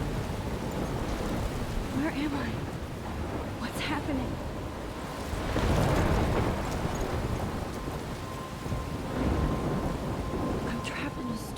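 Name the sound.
thunderstorm and rain in Life is Strange Remastered video game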